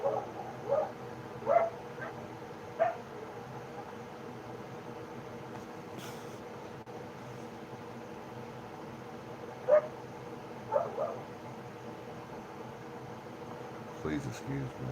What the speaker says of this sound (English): one dog will bark, and then another one will bark